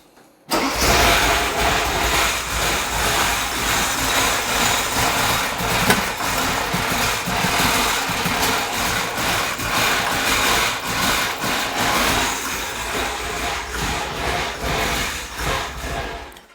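A Porsche 944 with its idle air control valve disconnected starts, then idles roughly with a loud, steady engine drone that wavers slightly throughout, close by and with no talking.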